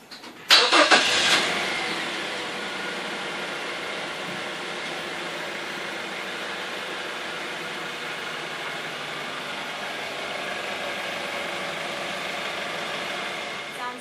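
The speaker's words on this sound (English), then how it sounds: "we're going to go ahead and start the car, make sure everything sounds and feels okay" A car engine cranks and fires up, then settles into a steady, close idle that runs on alone after its mass air flow sensor was cleaned and reinstalled.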